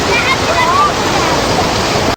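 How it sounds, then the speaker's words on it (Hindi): Water pours down steadily beside a pool, a loud continuous rushing splash like a small waterfall, with faint voices in the background. "ये देखें जो पानी आ रहा है जी नीचे"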